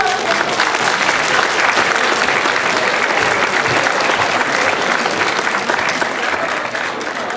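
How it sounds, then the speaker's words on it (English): Loud, sustained applause from students and families fills a school hall at a Year 11 leavers assembly, dense clapping running steadily throughout before tapering slightly at the end. "Can you give everybody a huge round of applause?"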